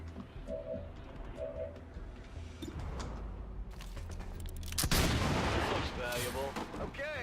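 Gunfire in XCOM 2 with ballistic weapons: sharp shots and a louder burst of fire amid game ambience, with a voice talking faintly over parts of it.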